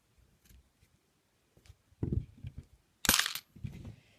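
Scissors snip crochet thread from a beaded necklace: a couple of quick sharp close cuts with small handling clicks and rustles around them, quiet between.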